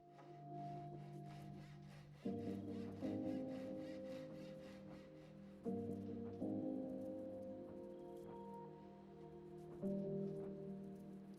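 Pull saw cutting a shoulder notch into a wooden board, a fast rhythmic rasping of short strokes heard close up, pausing briefly and restarting in several bursts with no talking.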